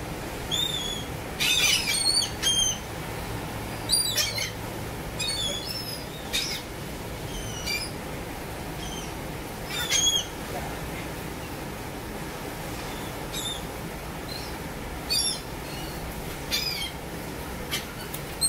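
Short bursts of high chirping bird calls repeat every few seconds over a constant background hiss at a Florida beach, with no talking.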